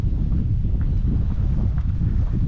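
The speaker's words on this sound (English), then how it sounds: "Nice, beautiful blue sky, but a little windy." Steady wind buffets the microphone throughout, a constant low rumbling roar with no voices.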